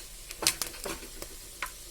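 Whole biryani spices such as cinnamon, cashews, cardamom and cloves sizzle and crackle in hot ghee with a few stirring scrapes, close up and fairly quiet, with short bursts of frying over a low background.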